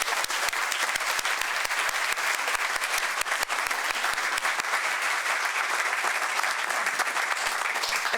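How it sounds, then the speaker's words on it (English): Sustained crowd applause for honorees at a community foundation recognition awards evening, dense and even clapping with sharp individual claps standing out close by, steady for the whole stretch with no speech. "Let's have one more round of applause for all of the honorees tonight."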